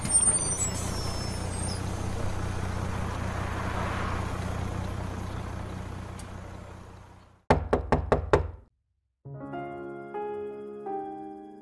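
Five quick, firm knocks on a door ring out sharply after a stretch of steady street rumble, followed by a short pause and then a bright tonal chime.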